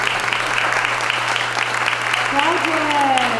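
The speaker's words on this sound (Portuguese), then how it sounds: "Vamos receber ele com um aplauso." Steady audience applause at a cultural policy panel in a museum in Taubaté, welcoming a speaker to the table; continuous, fairly close clapping with a faint tonal whistle near the end.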